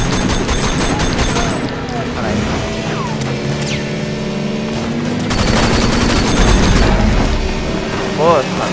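Gunfire during a shootout in Sleeping Dogs crackles in rapid bursts over a noisy background of engine drone and clatter, fairly loud, with a voice talking over it.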